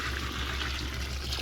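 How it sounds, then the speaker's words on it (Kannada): Water is poured into a cooking pot while rice is being prepared for a home function, making a steady, continuous splashing rush that lasts throughout with no one speaking. "ಒಂದು ಕಾಲ್ಪಾವಿಗೆ 2 ಚರಿಗೆ ನೀರು ಹಾಕ್ತೀನಿ ನಾನು."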